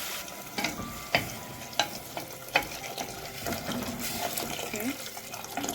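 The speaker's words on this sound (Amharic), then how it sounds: "አሁን እዚህ ጋር ውሃችንን እንጨምራለን።" Water splashes into a hot pan of sizzling vegetables for a soup, with scattered clinks of a utensil against the pot over a continuous frying hiss.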